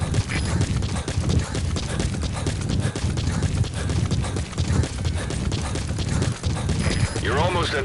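Steady clip-clop of horse hooves trotting in a PS4 video game, rhythmic and close, with a voice speaking over it and a brief whinny near the end.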